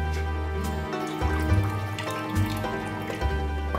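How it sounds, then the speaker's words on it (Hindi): Plain water poured over vegetables in a kitchen, a faint trickling, splashing pour over a steady background hum, with brief gurgles rising and falling. "ये मैं सादा पानी इस पे डाल रही हूँ।"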